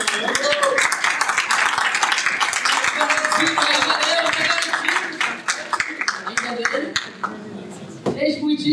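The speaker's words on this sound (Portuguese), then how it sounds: "uma salva de palmas para a professora" Audience applause for a professor invited to speak at a university lecture session, a dense steady patter of many hands with chatter and voices mixed in, thinning toward the end before a final burst.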